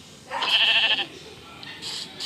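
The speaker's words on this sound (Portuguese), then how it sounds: "uma ovelha branca e preta" A black-and-white sheep in a video game gives a single short, nasal bleat, followed by quieter background sound and a faint voice.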